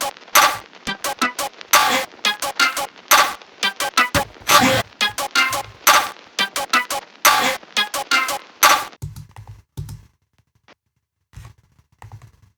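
A distorted, time-stretched electronic dance track, played without taming processing, bursts out in harsh, bright, choppy stabs with gritty aliasing harmonics, loud and close, then cuts to near silence with faint low thumps.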